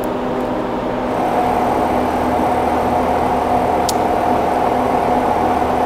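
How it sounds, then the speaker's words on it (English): A DC motor fed 10 volts from a power supply runs with a loud, steady hum and whir that holds constant throughout, close up and without talking. "we start the motor."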